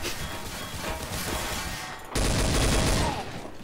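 Rapid gunfire from a weapon in the video game TTT, a dense burst of loud shots that intensifies into a heavier volley partway through.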